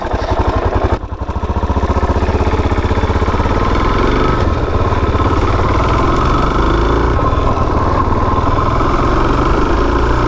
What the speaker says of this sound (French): On est passé sur du gros mono, enfin quand je dis gros mono, c'est pour moi, gros mono 4 temps, DRZ 400 et c'est parti.